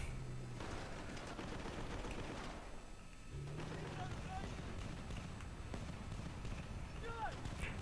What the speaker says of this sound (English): machine gun is doing pretty good amount of damage